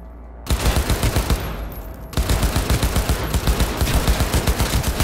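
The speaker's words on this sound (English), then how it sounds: "Tako, strelanje je kar cool." Rapid automatic gunfire from an AK rifle in a shooter video game rattles loud and close in continuous bursts, pausing briefly before resuming with a steady, fast rhythm of shots.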